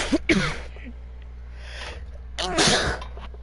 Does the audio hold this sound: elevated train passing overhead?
no